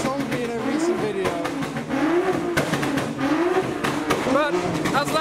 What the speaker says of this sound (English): Now there is a very loud R32 Golf.